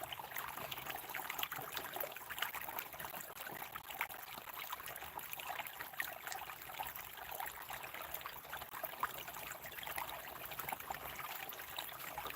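Water rushes down a small creek just after a small dam is released, a steady close trickling and splashing flow with no voices.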